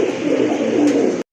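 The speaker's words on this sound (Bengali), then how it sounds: "আরেক জোড়া কবুতর রাজগোল্লা কবুতর, একদম গাঢ় টকটকা লাল" Deep red Rajgolla fancy pigeons cooing, a single short low throaty coo heard up close before the sound cuts off abruptly.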